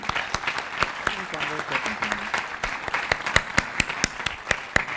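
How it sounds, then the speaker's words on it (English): At an awards ceremony, a crowd applauds steadily, with several sharp, close claps standing out over the dense clapping. "Great round of applause for them."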